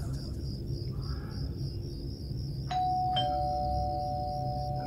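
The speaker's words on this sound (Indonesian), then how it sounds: "Dia terus-terusan memencet bel itu." A doorbell at the front gate of a staff dormitory sounds at night. Two chimes come in quick succession midway, over a steady high insect-like whine and a low hum.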